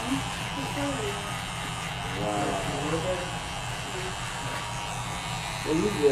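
Oster Fast Feed hair clippers buzzing steadily during a haircut, a constant electric hum throughout, with someone talking over it.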